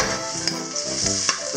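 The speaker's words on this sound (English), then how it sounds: "I'm going to fry some garlic, minced garlic, and julienne ginger" Minced garlic and julienned ginger sizzle steadily in hot oil, close and fairly loud, with a few soft clinks of stirring.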